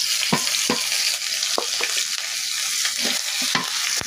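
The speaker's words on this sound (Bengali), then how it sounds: "এবার আমি বাটা মশলা দিয়ে দেবো।" A paste of ground garlic, ginger and cumin hits a hot pan for a fish-and-jackfruit-seed bhuna, giving a continuous bright sizzle broken by several sharp scraping stirs of a spoon, close and fairly loud.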